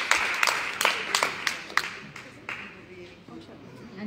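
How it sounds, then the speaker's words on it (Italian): A small audience at an author's book talk gives a short round of scattered hand claps that thin out and fade within about two and a half seconds, leaving quiet room murmur. "un applauso anche a Melissa"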